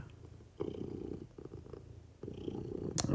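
A contented cat purrs up close in a home, a soft rumbling purr in rhythmic bursts with a brief pause between breaths, fairly quiet and alone.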